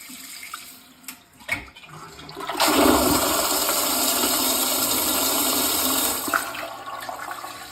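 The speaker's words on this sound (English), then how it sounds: "down here, you just put your foot there, and it flushes" An EPLO E16BP smart toilet with a hands-free foot-activated flush gives a couple of clicks, then a strong, steady rush of water that runs for about three and a half seconds before tapering off.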